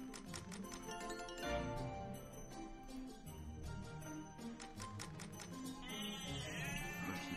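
Sheep bleats sound from a Gold Sheep slot machine game over busy jingling and ticking machine effects and music, several short bleats spread through the clip.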